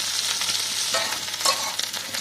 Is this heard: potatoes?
yes